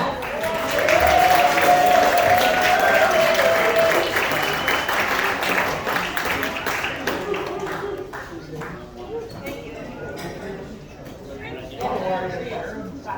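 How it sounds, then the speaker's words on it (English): Audience applause at a fiddle concert, a loud, full wash of clapping at first that slowly fades and thins, with voices and a brief whistle mixed in and a small renewed swell near the end. "I'd like to have a round of applause for Kathy Little, who put this all together."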